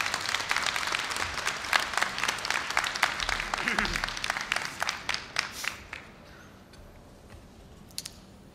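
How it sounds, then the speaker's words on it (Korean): A crowd at a Korea University graduation ceremony claps warmly for several seconds, then the applause thins out and fades into a quiet room. "뜨거운 박수로 우리 선배님을 환영해 주시기 바랍니다"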